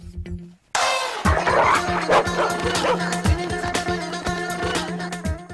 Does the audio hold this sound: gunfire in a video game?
no